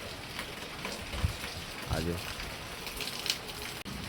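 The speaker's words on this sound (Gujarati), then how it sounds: "આજે વરસાદ ચાલુ થઈ ગયેલો છે આજે" Steady rain falls in an even, hissing patter throughout, with a brief spoken word from a nearby voice over it.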